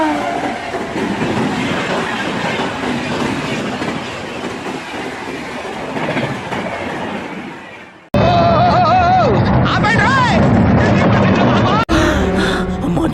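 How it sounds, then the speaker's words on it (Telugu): A train passes close by with steady rumbling and rhythmic clickety-clack of wagons on the rails, loud and continuous for most of the stretch, then the sound shifts abruptly to brighter, busier noise. "మాకైతే ట్రైన్ అడ్డం వచ్చింది."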